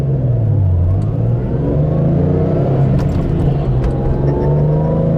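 A 1997 Toyota Supra accelerates hard, a loud, close engine drone with steadily rising pitch over road rumble, with no talking.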